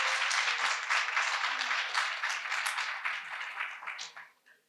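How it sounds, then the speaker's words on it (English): An audience at a film screening and community panel at the C. Waldo Scott Center claps in steady, lively applause that gradually thins out and fades to quiet at the end. "Let's give a round of applause."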